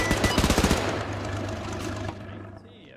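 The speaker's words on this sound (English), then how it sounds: "Tank gun misses again." Rapid bursts of heavy gunfire from a tank in the Arma 3 World War II game, a quick loud rattle of shots followed by a rumbling roar that trails off.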